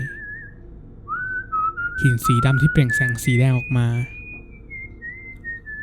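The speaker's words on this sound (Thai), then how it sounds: "เสียงผิวปากจบลง" A person whistles a slow wavering melody, first alone, then under a narrator's voice speaking over it, the tune drifting up and down before fading out near the end.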